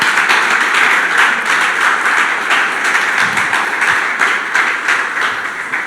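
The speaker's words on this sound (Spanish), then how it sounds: "¿Por qué no le das un aplauso al Señor?" Sustained applause from a church congregation fills the room, a steady dense wash of clapping at a loud, even level with no talk over it.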